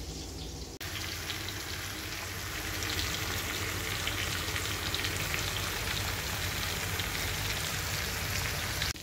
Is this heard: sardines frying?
yes